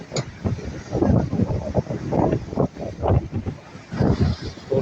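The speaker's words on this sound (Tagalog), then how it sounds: "Magalaw yung cellphone kasi mahangin." Strong wind buffets the microphone in rough, continuous gusts, with a faint watery wash underneath and no clear talk.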